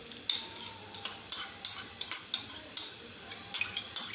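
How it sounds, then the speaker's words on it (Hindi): A spoon mixes chopped ingredients into yogurt in a bowl for dhuwan dahi gosht, giving a steady run of close, light metallic clinks and scrapes against the bowl, with no voices. "अब मैं एक बोल के अंदर सारे अज्जा को मिक्स कर लूँगी।"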